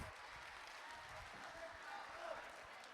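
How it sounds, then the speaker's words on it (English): Applause from a room of high school students at an attorney general's office outreach event, a steady broadband patter of clapping held throughout at moderate level, with some murmuring underneath. "let's give her a round of applause"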